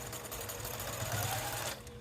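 A sewing machine runs in a quick continuous back stitch along a cork pouch zipper, a fast steady mechanical whir close by that stops abruptly near the end, with no voices.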